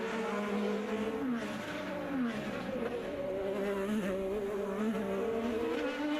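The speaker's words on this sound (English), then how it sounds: "You heard Pagenaud's car running on the rev limiter just a little bit." IndyCar race cars at speed on the Detroit street circuit in 2017, engines screaming loud and continuous with shifting pitch as cars push hard near the rev limiter, no voices.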